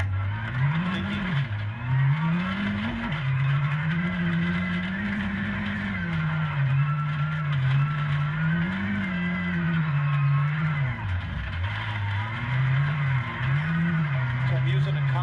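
A rally car in a racing video game running over a pebbly road surface, its engine note rising and falling as it brakes and revs through turns, heard steadily under continuous talking.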